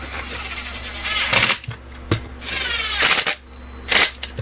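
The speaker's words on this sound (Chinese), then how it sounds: "那接下来记得要把螺丝上回去" Screws being driven back into a Dyson V6 SV03 cordless vacuum during reassembly, with several short, loud clicks and grinding twists of a screwdriver on plastic, separated by brief pauses, close up over a steady hum.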